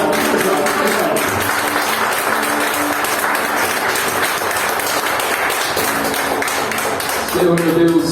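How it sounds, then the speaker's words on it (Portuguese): A church congregation at a Sunday service applauds loudly and continuously, a dense wash of many hands clapping throughout with a few voices mixed in. "eu convido você a dar a sua melhor salva de palmas para o Senhor."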